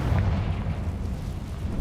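A Confringo fire spell explodes in Hogwarts Legacy, a dense, rumbling fiery blast that holds steady and loud for about two seconds without a break.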